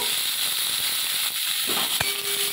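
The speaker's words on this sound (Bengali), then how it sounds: "আলু কাটাটা আছে, আমি ওইটা কড়ার মধ্যে দিয়ে দিলাম। আলুটা ভালো করে ভেজে নেব।" Cut potatoes fry in oil in a kadai, giving a loud, steady sizzling hiss close by, with one sharp crackling pop near the end.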